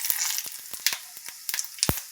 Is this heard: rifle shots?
no